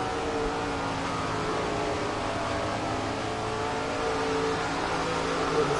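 Race car engine in the SRX: The Game racing video game: a steady, loud, high-revving engine roar with a continuous whine throughout, no talking.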